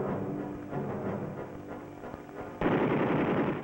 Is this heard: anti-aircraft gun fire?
yes